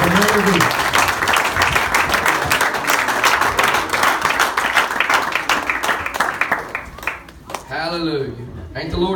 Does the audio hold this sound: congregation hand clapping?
yes